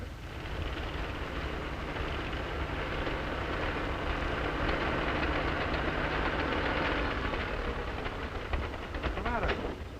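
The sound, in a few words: engine running before it quits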